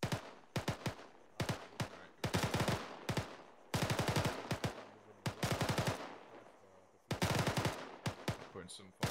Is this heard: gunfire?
yes